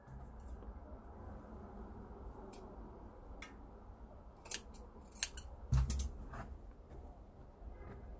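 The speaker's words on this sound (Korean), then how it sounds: "이렇게 튀어나온 부분은 잘라내도록 하겠습니다." Scissors snip away protruding linen fabric while making a bonnet, giving several sharp, close clicks over a steady low background hum, with a heavier thud near the middle.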